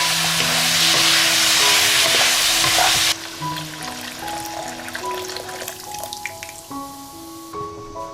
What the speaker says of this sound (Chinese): 让它翻拌均匀